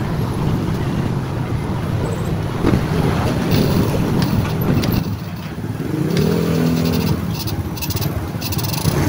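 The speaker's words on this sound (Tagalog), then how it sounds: "kita na natin umandar yung ating makina" A boat motor with loose compression runs steadily with a loud low rumble, mixed with wind buffeting and water noise throughout.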